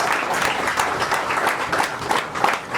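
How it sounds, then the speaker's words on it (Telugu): An audience at a felicitation ceremony for Sri A. Bharat Bhushan in Vijayawada claps steadily, a dense, even wash of applause from a sizeable crowd throughout. "గట్టిగా చప్పట్లు కొట్టి"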